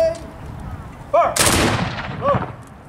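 A platoon of reenactors fires a single massed musket volley at a military history event, one loud broadband blast that decays over about a second amid outdoor noise, with brief shouted voices before and after it.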